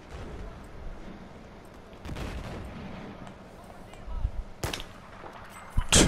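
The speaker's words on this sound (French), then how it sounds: "Tiens, coup de balle." Gunshots ring out in a PS4 shooting game, with a few scattered sharp bursts of fire rising over low game ambience and people talking.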